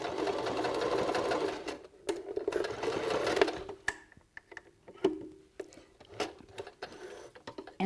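A sewing machine stitches a beanie, first in a steady whirring run, then in short stop-start bursts of rapid mechanical ticking, close and fairly quiet.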